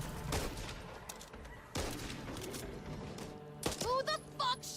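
Gunfire in the zombie shooter Back 4 Blood, rapid bursts of shots ringing out close and loud amid game noise, with a few sharper blasts and short bird-like squawks near the end.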